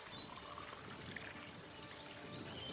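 Fresh spring water at Shasta pours in a steady, faint, continuous splashing stream, unbroken from start to finish.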